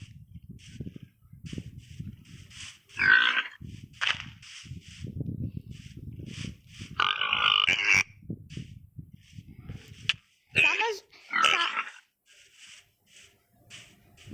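Brazilian tapir calls in the video game WildCraft: a series of short, shrill squeaky whistles and chirps, fairly close, over a steady low rumbling game ambience with scattered soft clicks.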